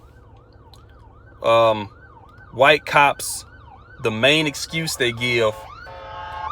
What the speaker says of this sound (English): as this ambulance passes me by